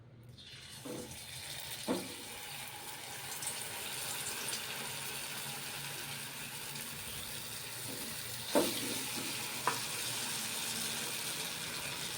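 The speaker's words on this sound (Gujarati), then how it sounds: "અહીંયા તેલ આપણું ગરમ થઈ ગયું છે તો આપણે સ્પ્રિંગ રોલને તરી લેશું" Maggi spring rolls deep-fry in hot oil with a quiet, continuous bubbling sizzle, broken by a few soft clinks and light handling sounds.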